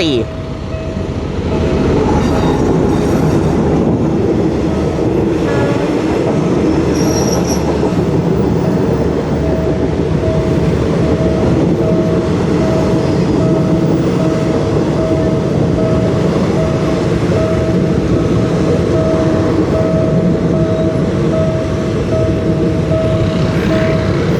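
A Thai railway train headed by an Alstom diesel locomotive with a Caterpillar engine rolls past at Thung Song junction. Its steady engine drone and rumbling wheels stay loud and near, with a sustained tonal whine and brief wheel squeals, and a voice talks underneath.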